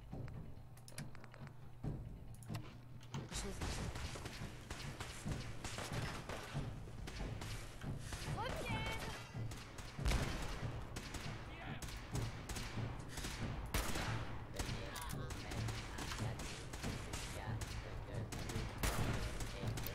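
Grenade launcher firing in Fallout 4, with repeated thumping launches and blasts mixed into a dense, continuous stretch of combat noise at moderate distance.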